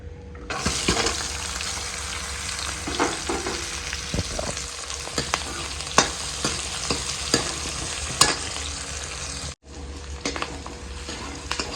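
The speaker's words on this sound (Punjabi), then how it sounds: "ਪਿਆਜ਼ ਆਪਣਾ ਭੁੱਜ ਰਿਹਾ" Chopped onions fry in hot oil with cumin for a dry vegetable dish, a loud steady sizzle running throughout with scattered stirring clicks and scrapes, briefly cutting out near the end before resuming.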